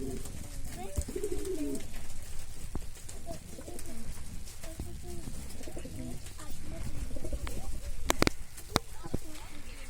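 Breeding pigeons coo repeatedly in low, rolling calls, close by, with wing flutters and scuffling in a busy loft; someone talks intermittently in Turkish underneath.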